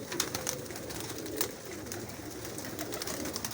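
Pigeons coo softly and continuously close by, soft low calls repeating over a faint background rustle with no voices.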